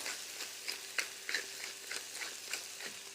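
Chicken cooks in a pan for chicken parmigiana, giving a soft, steady sizzle with light scrapes and taps of stirring at irregular intervals.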